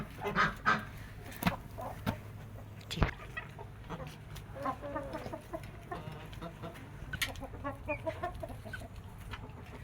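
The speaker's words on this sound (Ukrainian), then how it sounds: "Ось півник" A rooster crows and clucks close by amid bursts of poultry calls, with a steady low hum underneath.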